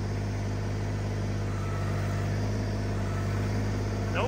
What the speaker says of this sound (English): Let's see if this little tractor will lift it.